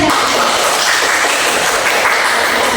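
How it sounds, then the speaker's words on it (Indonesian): A classroom full of primary school pupils claps together in a dense, steady burst of applause that continues evenly throughout, loud and close, with no talking. "Ya, beri tepuk tangan."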